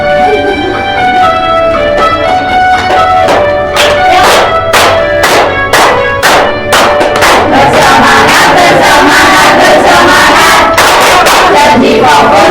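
An elementary classroom, stood up for an icebreaker, claps sharply in rhythm while chanting a call-and-response clap chant together, loud and close, with the claps speeding into rapid bursts toward the end.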